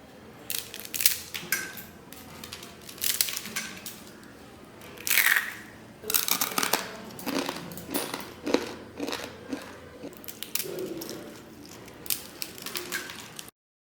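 Crisp, brittle crunching of a homemade murukku, a crunchy snack made with butter, bitten close up in a series of sharp bursts with short pauses between bites, no talking.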